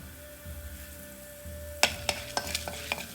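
Mustard seeds, chana dal and urad dal fry in hot oil for carrot rice. A quiet hiss and low hum are followed by a run of sharp, spaced pops and crackles close by.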